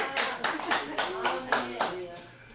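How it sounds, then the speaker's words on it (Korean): A church congregation claps in unison during a sermon, about seven sharp, evenly spaced group claps ringing out close and loud, with voices faintly present. "그 말이 맞다면 박수 한번 주십시오"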